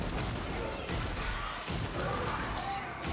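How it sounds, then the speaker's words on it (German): An explosion in the sci-fi shooter The Ascent: rumbling, crashing blasts and gunfire-like bursts fill the scene at steady loudness, with a brief lull midway before the din resumes. "Was war das für eine Explosion jetzt gerade?"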